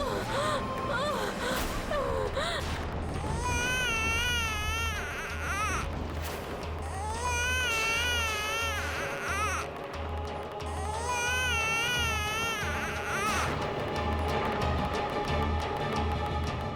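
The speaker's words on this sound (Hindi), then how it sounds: "बच्चे के रोने की आवाज।" An infant cries in repeated wailing bursts over a busy dramatic soundtrack, with music and other sounds continuing beneath the sobs throughout.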